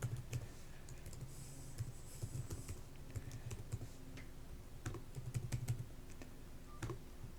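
Quick keystrokes on a computer keyboard as a password is entered, a soft, close run of clicky taps with brief pauses, no voices.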